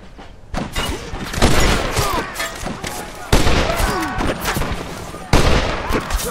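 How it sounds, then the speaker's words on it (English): Springfield rifle and other gunfire in a Red Dead Redemption shootout: sharp shots crack repeatedly in bursts, with three especially loud blasts standing out over a continuous background of battle noise. "the Springfield rifle."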